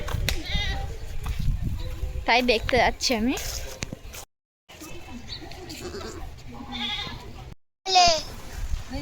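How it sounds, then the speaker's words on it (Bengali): Goats bleat repeatedly at a rural village farm in the Sundarbans as goat kids are being born, the wavering cries coming close and loud in several bursts, with a person talking in between. "ছাগলের বাচ্চা হচ্ছে,"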